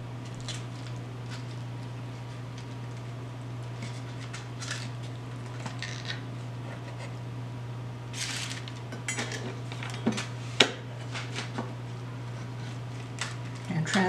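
A knife cutting cooked red snapper, stuffed with crab and shrimp, on a plate, with faint scraping and light clinks of utensil against dish over a steady kitchen hum, growing a bit louder near the end.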